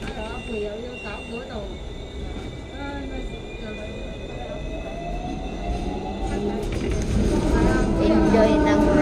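Riding a Hong Kong tram: low steady rumble of the moving car with faint wheel squeal and rising motor whine, growing louder toward the end, while people talk nearby.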